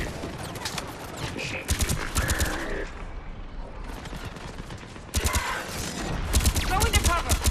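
Gunfire from a Mass Effect 3 battle, with bursts of weapon fire popping repeatedly through dense combat noise and game voices talking over much of it.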